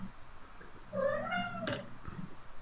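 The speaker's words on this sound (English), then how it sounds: "That's my cat." A single drawn-out meow from a cat nearby, rising then falling, against quiet room background.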